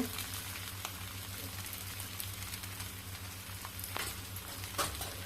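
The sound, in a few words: frying and stirring chole masala in a pan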